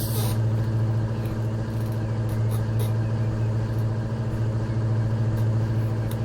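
A truck engine idles with a low, steady rumble in the Truck Parking Simulator VR game, running continuously throughout at moderate loudness.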